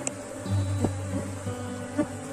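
Honeybee swarm at an apiary hive, a steady close buzzing drone that holds throughout, with small bumps and swells in loudness as bees move near.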